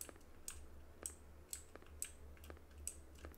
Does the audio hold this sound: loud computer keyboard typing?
yes